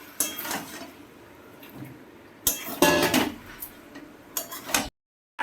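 Fried potatoes and water spinach are stirred in a metal pan, with irregular clanks and scrapes of a utensil against the pan and short sizzling bursts and quiet gaps between.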